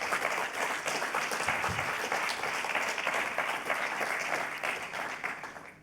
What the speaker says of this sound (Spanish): Hecha esta presentación, recibimos con un aplauso a Javier Sánchez.